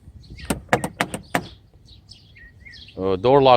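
Door locks on a 1995 Mercedes SL600 actuate in a quick run of five sharp clicks, followed by faint chirps and then a louder, sustained tonal alarm chirp at the end.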